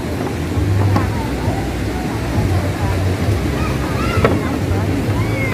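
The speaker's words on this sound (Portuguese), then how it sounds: "Vamos lá ver as águas da cachoeira." Cachoeira do Urubu waterfall sends a continuous rushing roar of falling water across the walkway, with wind noise on the microphone and people talking over it.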